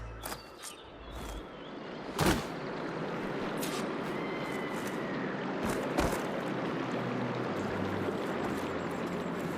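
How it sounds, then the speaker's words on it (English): Water flows back into a room in Horizon Forbidden West, a steady rushing wash with a few sharp thuds and clanks breaking through near the start and middle. "Aloy, I can hear water in the room again."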